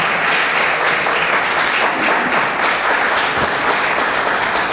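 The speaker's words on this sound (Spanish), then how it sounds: "Dale un aplauso al Señor." A church congregation gives sustained, dense applause at a service in Mexico, a loud continuous roar of many hands clapping with no voices standing out.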